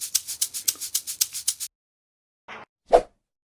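A shaker sample for a modern Afro beat in FL Studio rattles in a quick, even run of about a dozen crisp hits, then stops, followed by two short isolated swishes after a pause.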